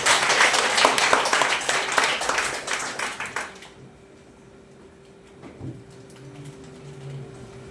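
A church congregation bursts into loud, dense applause that fades out after a few seconds, leaving a quiet room with a steady hum and a few faint knocks.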